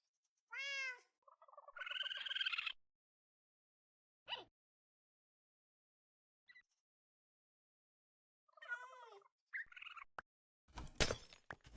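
Cats in Minecraft give several separate meows, clear and close, with quiet gaps between them and a brief clatter near the end.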